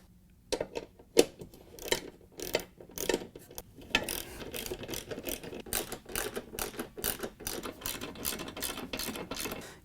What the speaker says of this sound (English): Use a 1/2-inch socket and ratchet to loosen and remove the 4 bolts that hold the mount to the tub.